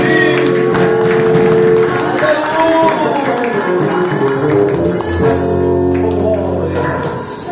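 A church congregation applauds during a worship service, dense clapping blended with cheering, music and a voice over it, holding loud and steady before thinning slightly at the end.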